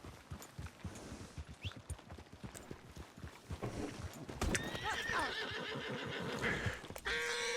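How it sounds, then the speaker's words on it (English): In Red Dead Redemption 2, a horse's hooves clop in a quick, busy rhythm, then the animal lets out a loud, drawn-out neigh and whinny up close, with no talking. "You better not run me over, dumb horse."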